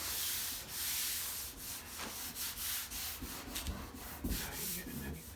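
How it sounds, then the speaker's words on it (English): Close, repeated back-and-forth strokes of hand sanding body filler on a 1965 Mercury Comet, a coarse rasping rub with uneven rhythm. "I'm gonna finish sanding that off"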